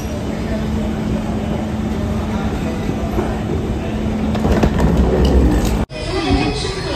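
A train at a railway station platform on the Mysore to Gulbarga route rumbles steadily nearby with wheel noise and a rising clatter, and people's voices are mixed in.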